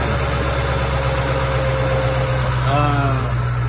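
A Ford Mustang S197 with a Whipple supercharger idles steadily and loudly up close, with a low engine drone, a faint pitch wobble near the end and a voice underneath.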